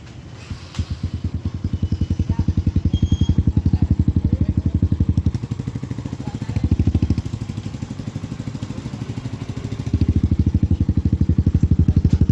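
A Kawasaki KLX 150 dirt bike with a freshly fitted exhaust runs steadily close by, a loud rapid single-cylinder putter with a few revs rising and falling, no talking over it.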